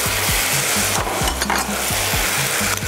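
Cooked tagliatelle and its broth hit hot oil with spices in a pan, giving a steady loud sizzle while a utensil stirs and scrapes in repeated rhythmic strokes.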